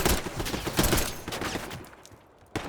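Rapid gunfire bursts in the video game Call of Duty Black Ops 6, a string of close, sharp shots in quick rhythm that thins out and pauses before one more report at the end.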